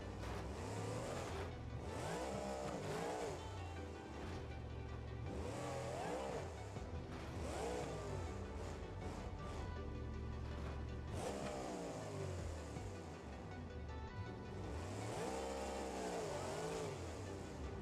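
Turbocharged car engines in the BeamNG.Drive driving game rev continuously and loudly, rising and falling in repeated pulls with a steady, dense roar throughout.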